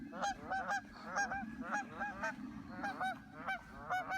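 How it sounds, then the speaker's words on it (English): Geese honk outdoors in a rhythmic series of loud, nasal calls, several birds trading honks in quick succession at moderate distance. "They're pretty birds"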